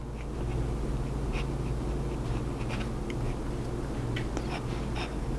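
Soft scratchy scraping of an oversized metal fountain pen nib, writing reversed, moving across paper in short strokes, faint and close over a low steady background hum.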